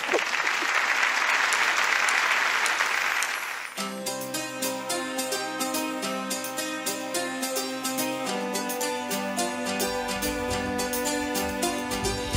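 Dense studio audience applause on a Turkish television music show rings out for a few seconds, then cuts off as band music starts playing.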